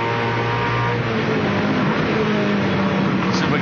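The number 8 Castrol Holden Commodore VT touring car races at Oran Park during the 1998 ATCC, its engine a steady, loud, onboard drone holding a high, sustained pitch throughout.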